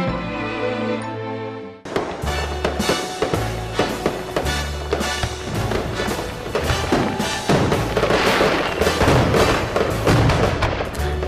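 Fireworks explode in a dense, loud barrage of overlapping bangs and crackles that runs without a break for about nine seconds, after a short tonal intro.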